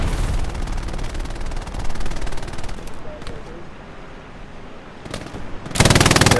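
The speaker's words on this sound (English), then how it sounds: "there's a machine gunner in this game with 100 kills" Sustained automatic gunfire from a machine gunner on a video game Omaha Beach battlefield, a dense rattling burst up front that thins into scattered distant shots, then a loud close burst near the end, with voices in the mix.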